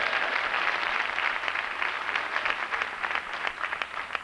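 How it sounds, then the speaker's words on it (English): A church congregation at a COGIC gathering applauds the choir with continuous, moderately faint clapping that stays fairly even throughout. "let's give them a round of applause."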